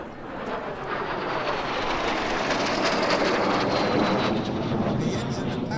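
Czech-built L-39 jet trainer with an Ivchenko engine producing nearly 4,000 pounds of thrust, heard as a steady broadband roar during a flying display at Lancaster Airport community days, loud and sustained throughout.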